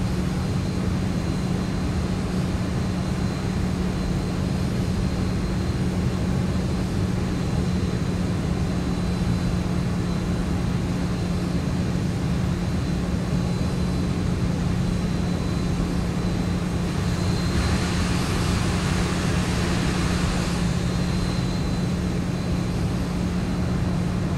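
An airplane taxis after landing in the X-Plane 12 flight simulator on a France to England flight, with flaps in and air brakes off; a steady engine drone with a low hum holds throughout, swelling slightly near the end.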